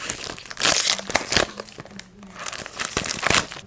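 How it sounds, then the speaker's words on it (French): Perfume packaging is unwrapped and opened by hand with sharp bursts of crinkling and crumpling paper or film, a few tearing sounds mixed in, close and fairly quiet. "On va déballer tout ça et voir, quoi."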